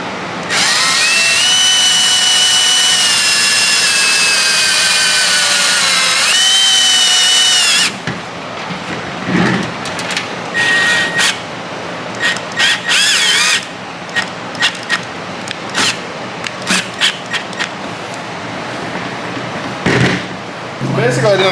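A power drill bolts a bracket into a 2017 Chevrolet Silverado, whining loud and steady for about eight seconds before stopping. Scattered clanks and handling clatter follow as someone talks over them.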